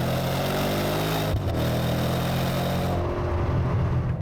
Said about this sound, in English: That engine is really smooth, plenty of power, and it revs with a surprising keenness.